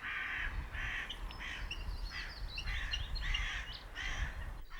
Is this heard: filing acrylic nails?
no